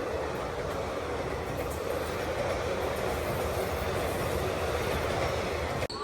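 A crowded Vijayapura–Yesvantpur express train rushes past at speed, a loud, steady roar of wheels and rail noise filling the whole stretch, ending abruptly near the close.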